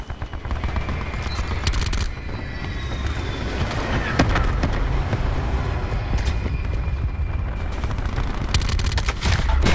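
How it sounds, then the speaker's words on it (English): Rapid video game gunfire in Call of Duty Black Ops 4 crackles loudly throughout, dense bursts of automatic shots mixed with sharper single cracks and booms. "I'm shooting this dude in the head"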